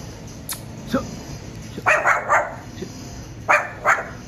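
A dog barks several times near a waterfall, with short sharp barks spaced out in pairs and a few quieter yips, and people talking nearby.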